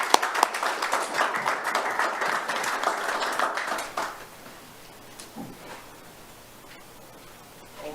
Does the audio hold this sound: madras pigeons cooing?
no